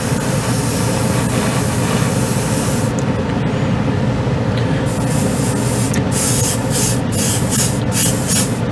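A Badger airbrush sprays white acrylic paint in a loud, continuous hiss that carries on without a break, with brief pulses and gaps in the upper hiss toward the end.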